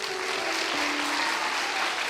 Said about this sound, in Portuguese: Dá salva de palma para as vovó, vai.